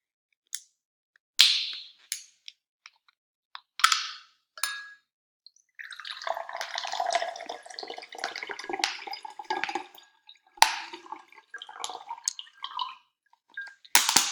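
Water is poured from a plastic bottle into a glass in bursts, with short splashy dribbles and drips separated by silence, then a longer burbling pour in the middle, heard up close.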